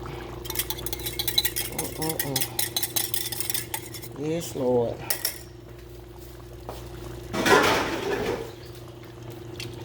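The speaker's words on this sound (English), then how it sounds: "I'm going to take my little sauce that I made, my little slurry, and you see it's thick, and just going to pour it right on top." A thick slurry sauce is poured over neck bones in a pot and stirred in, with metal utensil clinks, scraping and a brief liquid pour. A voice says a few words.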